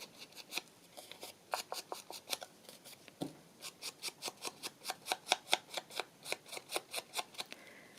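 Rapid repeated soft scratchy strokes, like an ink blending tool dabbed and rubbed around the edges of a kiss-cut paper cut-out for a book page writing bundle, close and steady with short pauses, no talking.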